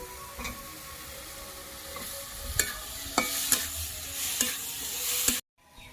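Malabar spinach fruits are stirred in a hot pan with salt and turmeric: a steady frying sizzle runs throughout, broken by sharp scrapes and clinks of the spatula against the pan, before stopping abruptly.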